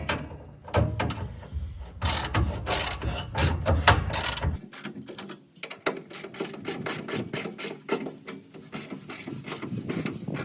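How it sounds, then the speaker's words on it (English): Ratchet wrench tightening bolts by hand on a Z1 cab side Molle panel, rapid loud metallic clicking in continuous bursts, then sparser, more separated clicks, close and without talk. "I'm thinking about just hand tightening this"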